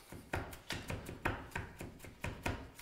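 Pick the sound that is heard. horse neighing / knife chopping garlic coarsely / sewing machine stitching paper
knife chopping garlic coarsely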